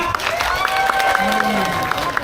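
Crowd clapping and cheering at a black buffalo contest, heard outdoors under an announcer's voice and amplified sound, with scattered sharp claps rising and falling over about two seconds.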